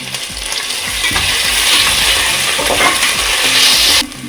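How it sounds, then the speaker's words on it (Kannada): Ginger garlic paste fries in oil for pulao, a loud close sizzle under rhythmic scraping strokes of a spoon stirring the pan, then stops abruptly near the end. No one speaks. "ಮೆಣಸಿನ್ಕಾಯಿ ಎಲ್ಲ ಹಾಕೊಂಡ ತಕ್ಷಣ ಶುಂಠಿ ಬೆಳ್ಳುಳ್ಳಿ ಪೇಸ್ಟ್ ಹಾಕ್ಕೊಳ್ರಿ"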